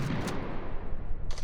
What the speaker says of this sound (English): just shooting some zombies